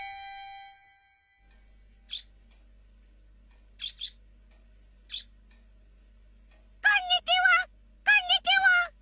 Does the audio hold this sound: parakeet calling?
yes